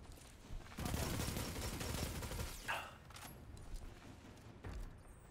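Gunfire in Destiny 2, a quiet spread of shots and bursts over a muffled background, with a few sharper hits standing out briefly.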